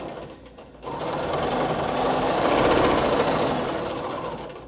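Sewing machine doing free motion quilting on echo designs, starting after a brief pause and then running in a steady, fast, loud mechanical whir close by.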